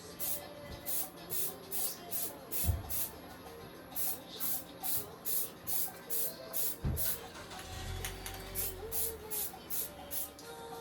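Spray paint goes onto planters in a quick series of short, hissing bursts with a regular rhythm. The hiss is close but fairly quiet, with a couple of knocks and some low rustling in the background.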